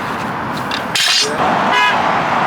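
Car horn in traffic, a single loud honk blaring for about a second over the rumble of road noise nearby.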